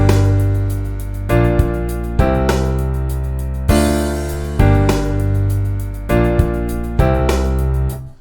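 Song played back in Cubase with a bass line sounding plain root notes under chords, the notes changing in a steady rhythm of sustained blocks, with no voices.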